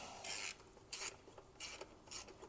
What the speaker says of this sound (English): Now we can break that back bolt loose.